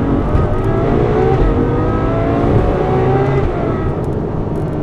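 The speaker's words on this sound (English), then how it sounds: "Just listen to the response of the downshift on this thing" A Ferrari 812 Superfast V12 roars loud and close with a dense, rising-and-falling engine note, the kind heard during a downshift, and runs without a break through the whole stretch.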